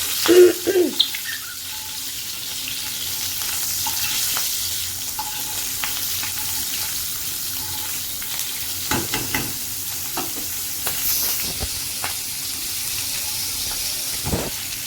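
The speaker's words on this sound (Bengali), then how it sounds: "তো এখন পেঁয়াজটা একটু ভাজা ভাজা মতো করে নেব" Onions sizzle steadily in hot oil in a pan while a spoon stirs them, with occasional close scrapes and clatters against the metal.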